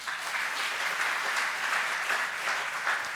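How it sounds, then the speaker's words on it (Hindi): An audience at an academic remembrance event claps vigorously and evenly, a steady wash of applause held throughout without talk. "एक बार ज़ोरदार तालियां।"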